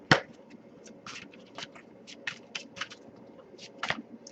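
Tarot cards being shuffled by hand close up, a series of quiet crisp riffles and taps in irregular bursts over a soft background, with no talking.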